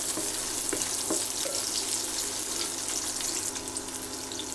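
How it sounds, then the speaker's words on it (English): Onions sauteing in hot oil on high flame, a dense steady sizzle with a couple of light stirring knocks near the start, close and continuous, no talk. "Saute the onions for about 5 minutes on high flame."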